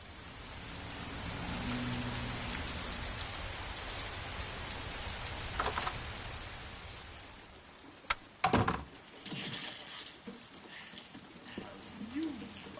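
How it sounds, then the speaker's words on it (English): Steady rain falls continuously, a dense hiss that softens after a few seconds, with a couple of sharp nearby knocks or splashes around the middle and faint low sounds beneath. "It's raining."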